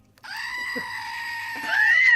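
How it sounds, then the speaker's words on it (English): A screaming goat standee toy lets out one sustained, loud, bleating scream that rises near the end, heard alone and close up. "It's literally a screaming goat standee."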